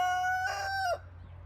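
A rooster crows once, close and loud, its call ending abruptly over a low steady background hum.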